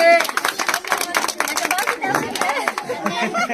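An audience claps during a street giveaway of groceries such as potatoes, onions and soybean packets. The clapping is a dense, steady patter of many hands that runs throughout, with someone talking over it.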